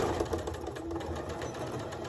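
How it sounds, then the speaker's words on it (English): A sewing machine stitches steadily, then back-stitches, along the edge of a fabric face mask, with a continuous close motor whir and no talking. "I'm going to stitch that down, and then I'm going to back stitch"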